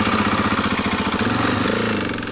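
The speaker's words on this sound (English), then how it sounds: "This particular bike, a 2021 model, might sound like a bag of bolts when starting it up." A 2021 Husqvarna 701 motorcycle with a 690cc single-cylinder engine runs just after starting, a loud, close, rapid mechanical chatter and thump, rough and clattery, steady throughout with no talk.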